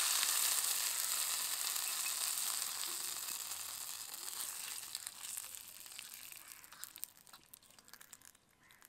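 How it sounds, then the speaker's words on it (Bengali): Dried red chillies and curry leaves crackle and sizzle in hot oil for a tadka, a steady close frying hiss with scattered pops that slowly fades toward the end; no voices. "শুকনো লঙ্কা কেটে নিয়েছি দিয়ে দেব, কারি পাতা দেব। তড়কাটা হয়ে গেছে"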